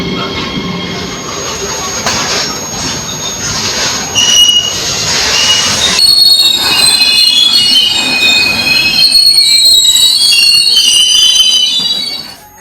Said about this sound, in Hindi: पूरा ये मालगाड़ी कोयले से भरा पड़ा है,